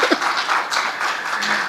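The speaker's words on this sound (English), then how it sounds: "You can give a round of applause." Conference audience applauding, a steady wash of many hands clapping that fills the room for almost two seconds, close and fairly loud.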